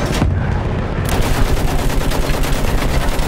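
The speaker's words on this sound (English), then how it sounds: "Use that machine gun! Mow them down!" Battlefield 1 gameplay: loud, continuous machine gun fire in rapid bursts, dense and close, with a rolling battlefield din behind it.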